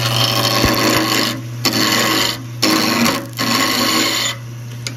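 Spindle roughing gouge cutting a wood blank spinning on a lathe, a close, harsh rasping scrape in several bursts over a steady motor hum, with no one speaking.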